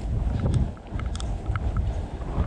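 Steady gusty wind rumbling against the microphone while cycling on Fehmarn island, Germany, a low buffeting roar with no voices.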